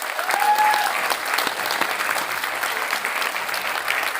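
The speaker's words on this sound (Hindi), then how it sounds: "गुजरात वाली तालियां" A dense, steady burst of clapping fills a meeting hall as an audience applauds together, continuous and fairly close throughout with no voices over it.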